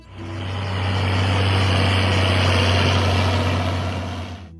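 A John Deere 4440 farm tractor engine idles steadily, a loud, continuous low diesel rumble that holds even throughout with no talk.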